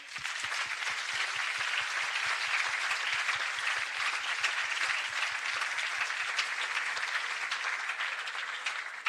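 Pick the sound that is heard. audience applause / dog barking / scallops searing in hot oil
audience applause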